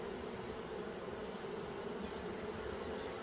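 Honey bees buzzing steadily as they are moved into a Flow Hive, a dense continuous drone of many insects with no pauses.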